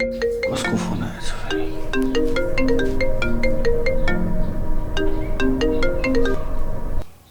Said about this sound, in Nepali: दाजु हजुरको फोन अघिदेखि बजिरहेछ